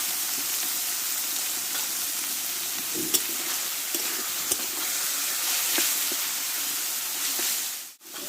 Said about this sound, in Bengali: আর কিছুটা হলুদ দিয়ে মাছটা আমি ভেজে নেব